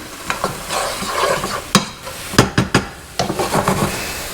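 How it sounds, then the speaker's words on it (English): Onions and peppers sizzle in a pan while a utensil stirs them, giving several sharp scraping clacks against the pan over a steady frying hiss, close and clear. "So you're going to want to stir this occasionally."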